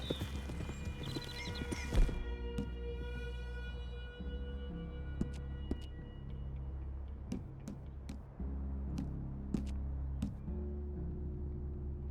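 Horse hooves in Red Dead Redemption 2 clip-clop in an uneven, steady trotting rhythm over a low rumbling background, with occasional sharp clicks and a tinkling chime early on.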